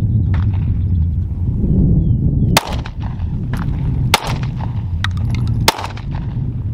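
Four sharp, loud pistol shots from a Smith & Wesson M&P Shield Plus ring out at an outdoor range, spaced irregularly about a second or more apart over a steady low rumble of wind and background noise.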